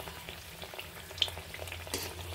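Malpua fries in oil with a soft, continuous sizzle and crackle, faint and close, with a few small pops and no voices.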